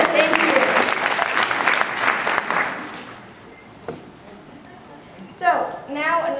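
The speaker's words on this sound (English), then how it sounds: "Like a round of applause for the lovely state of Florida." Audience applause for the state of Florida at a live conference session, a dense burst of clapping that fades after about three seconds, followed by a quieter stretch and someone speaking near the end.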